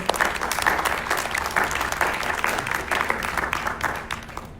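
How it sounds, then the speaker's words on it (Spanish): A church congregation at a Spanish-language worship service claps together in sustained, steady applause that fills the room for the whole stretch at an even, fairly loud level. "Dale un aplauso al Señor."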